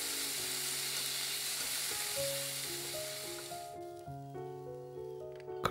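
Carrots stir-frying in a little extra oil for japchae give a steady soft sizzle that fades midway, while background music plays over the pan.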